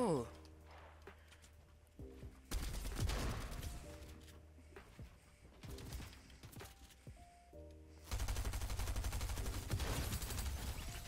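Bursts of automatic gunfire from another player in Fortnite, several rapid volleys separated by pauses, loud and close, mixed with game music and excited talk.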